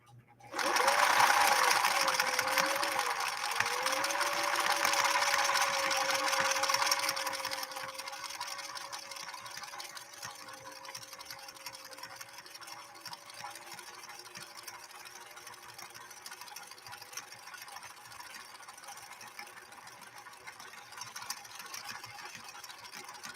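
A 1968 Singer Model 626 sewing machine stitches with a steady mechanical whir and hum, loud at first and then settling into a quieter, even run for the rest of the stretch.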